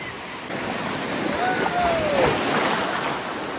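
Sea waves at New Digha beach wash in with a broad, continuous rush, heard close and loud amid wind noise, with a voice speaking briefly and a faint whistle-like tone.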